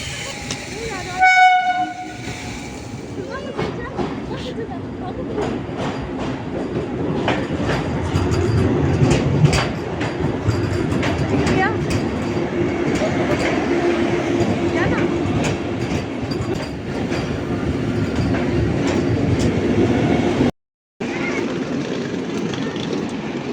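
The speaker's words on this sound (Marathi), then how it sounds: "ट्रेन आता आपल्या प्लॅटफॉर्मला येईल" A Vande Bharat Express pulls into a station platform on the Aurangabad–Nashik route. Its horn blares near the start, then a loud, sustained rumble and clatter of the passing carriages follows, with faint voices underneath.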